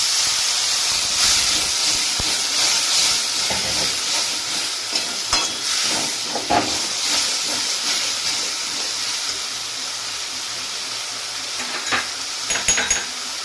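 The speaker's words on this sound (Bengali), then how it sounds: "এবার আমি অল্প করে হালকা করে একটু জল সাইড দিয়ে দিয়ে দিলাম" Water is splashed into a hot pan of banana stem with prawns and turmeric, giving a loud burst of sizzling and steamy hiss. The hiss gradually settles, broken by scattered clinks and stirring scrapes. No voices are present.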